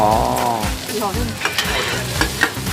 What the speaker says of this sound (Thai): หอยทอดกระทะใหญ่อยู่ที่ตลาดคุยบุรี